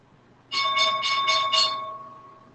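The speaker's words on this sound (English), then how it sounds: "There goes the bell." The stock market opening bell rings as a bright electric clang of about five rapid strikes, then a sustained tone that fades out over a second, heard alone and fairly loud.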